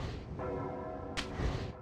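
Bells tolling in the video game Drakengard: a sustained, ringing metallic tone with a brief bright strike partway through, heard at moderate level without speech.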